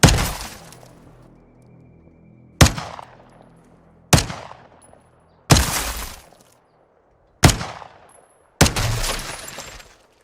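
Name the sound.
windows shot and breaking in video game Modern Warfare 2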